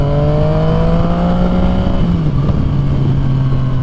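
A Yamaha FZ-09 motorcycle engine drones steadily under acceleration, its pitch climbing then dipping with a gear change, loud and close with continuous wind rush.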